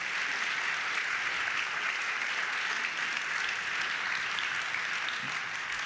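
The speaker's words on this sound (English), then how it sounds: "I think you deserve big applause for this work you did" An audience applauds steadily for Magda at an anniversary celebration event, a dense, even wash of many hands clapping that holds at a constant level for the whole stretch without a break.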